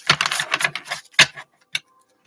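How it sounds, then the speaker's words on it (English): Lord of the Rings tarot deck given a bridge shuffle, a rapid close riffle of fluttering card snaps followed by a couple of sharp taps as the cards settle, then quiet. "It's a Bridge shuffle."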